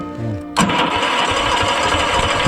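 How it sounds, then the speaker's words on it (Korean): A small mountain transport cart's engine sputtering to life after a short low whir, then settling into a loud, steady, rattling idle close by. "이제 시동 걸어."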